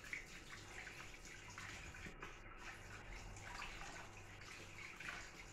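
Raw meat for mansaf being rinsed again under running tap water, a steady low splashing flow that stays constant throughout with no talk over it.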